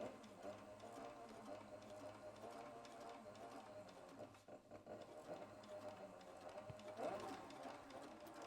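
A sewing machine stitches the seam of a custom leather tote bag, a steady, fast mechanical run that continues close and evenly for the whole stretch with only a brief dip partway through.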